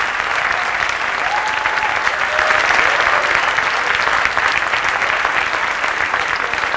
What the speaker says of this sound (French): je vous laisse les applaudir une nouvelle fois